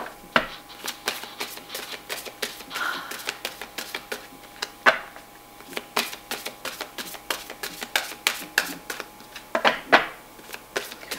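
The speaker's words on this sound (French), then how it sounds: "Je vais juste rebattre les cartes." A deck of tarot cards shuffled by hand up close, with a steady run of soft, papery slaps and flutters repeating for about eleven seconds and no talking.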